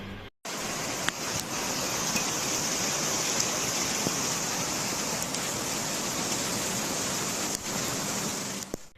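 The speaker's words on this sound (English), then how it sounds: "Rain has been falling in Guangdong" Heavy rain and floodwater in Guangdong, China, make a dense, continuous roar of rushing water and downpour that is steady and broad from start to finish, with a few faint knocks and no speech.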